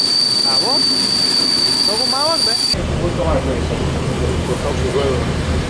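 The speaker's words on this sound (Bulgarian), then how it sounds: "Пристига пътнически влак." A passenger train pulls into a station in Stara Zagora, its wheels squealing against the rails in a steady rumble. People talk over it briefly.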